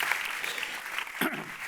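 Brief audience applause at a conference dialogue in Córdoba, a short wash of clapping from a seated crowd with a murmur of voices underneath.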